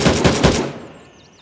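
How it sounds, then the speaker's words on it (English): Rapid automatic gunfire in a Gray Zone Warfare-style video game mission, three loud close bursts fired through a window in quick succession, then a fading reverberant tail into quiet. "Shooting through the window."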